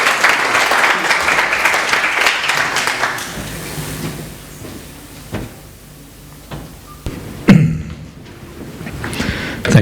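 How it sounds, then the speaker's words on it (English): Applause from a lecture audience for Klaus Regling, loud and dense at first, then fading into sparse scattered claps, a few knocks and shuffling noises. "So another round of applause for Klaus Regling for being such a good friend"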